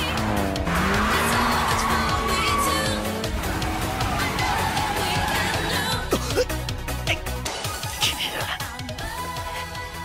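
Toyota AE86 drifting on a mountain road, tires squealing and skidding as the engine revs, with loud music over it throughout.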